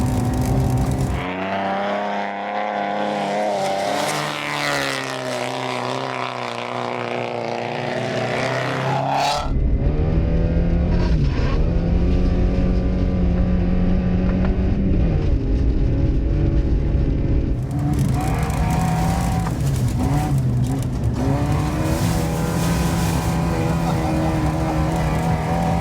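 Front-wheel drive car driven hard and sliding, heard from inside the cabin: loud continuous engine roar that rises and falls in pitch, with a brief shift near the middle before it surges on.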